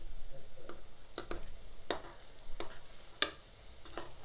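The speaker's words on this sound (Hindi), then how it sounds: "इसको हमने तलना है मीडियम आंच पे" Vadas frying in oil over a medium flame, a soft steady sizzle with a few sharper pops and stirring clicks scattered through, close and alone with no talk.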